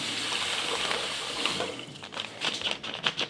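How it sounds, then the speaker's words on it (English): Granulated sugar pours into an iGulu F1 kombucha brewer in a soft, rushing hiss that turns into patchy, uneven bursts toward the end, close by with no talking. "We're gonna pour the sugar in."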